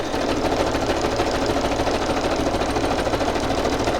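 A sewing machine runs steadily through a zigzag stitch around the edge of a paper page, a continuous close whirring hum that holds level for the whole stretch with no talking.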